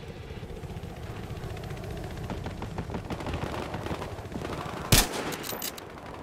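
Gunfire in the video game Battlefield Hardline crackles in quick, scattered bursts over a low engine-like rumble, building toward one sharp, loud shot near the end followed by fainter pops.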